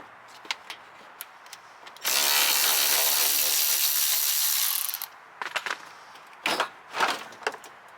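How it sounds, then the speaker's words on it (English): A ratchet works out hidden 10mm bolts inside the fender liners of a 2011-2014 Dodge Charger, with scattered clicks and knocks and then a loud, steady whirring burst lasting about three seconds, followed by more short clattery taps. "remove the hidden 10mm bolts inside the fender liners"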